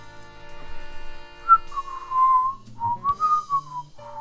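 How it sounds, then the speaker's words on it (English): A person whistling a wavering, unsteady tune up close, a few breathy faltering notes sliding up and down, with faint background tones and no speech. "That was my failed attempt at whistling there."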